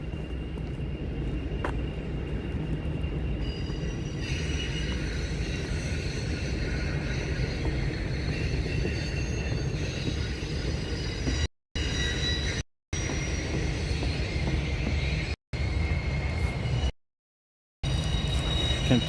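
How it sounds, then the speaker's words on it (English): Train wheels screech with a sustained flange squeal as cars ease around a gentle S curve in Henry County, Georgia, a steady, fairly loud metallic whine over rumbling rail noise, broken by a few brief dropouts near the end. "The flange noises are coming from that incredibly, well, not really incredibly sharp, but that gentle S curve."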